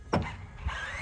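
A Tekno EB48 2.1 RC buggy spinning its tires, a close electric motor whine that rises in pitch under a short burst of tire scrub, over about a second.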